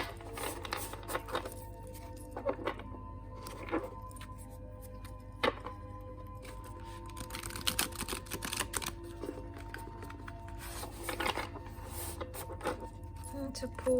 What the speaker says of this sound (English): Let us just see how the cards shuffle.